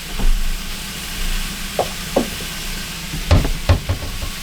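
Squash, green tomato and fresh garlic sautéing in a pan, a low steady sizzle broken by several sharp scraping stirs and clinks of a utensil, close and moderately loud, with no talk.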